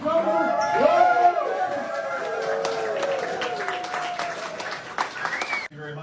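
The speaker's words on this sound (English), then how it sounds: "Give a big round of applause." A standing crowd applauds for North Dakota Governor Doug Burgum, steady clapping and cheering under a loud voice and shouting, with a sharp whistle near the end before it cuts off.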